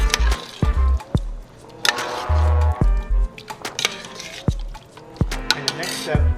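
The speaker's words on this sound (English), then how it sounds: "So now it's time to stir" Lemongrass coconut curry sauce with added sugar being stirred in a pot, with scattered clinks and scrapes of a utensil against the pan and soft wet squelching, irregular and close.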